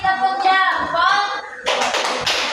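A class of fifth-grade pupils does a thumb clap, a burst of dense, crisp group clapping that starts suddenly after a stretch of talk and continues in rough rhythmic pulses.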